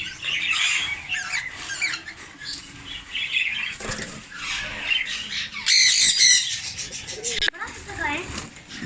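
Large parrots, yellow ring-necked and Alexandrine, squawking and chirping loudly and close by in overlapping harsh calls, with bursts of wing flapping and a sharp shriek near the end.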